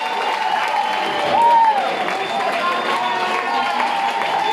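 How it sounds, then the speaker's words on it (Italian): An audience applauds the winner of the Musica da Bere 2022 contest: steady crowd clapping and cheering that swells briefly, with voices mixed into the sustained applause. "Un applauso!"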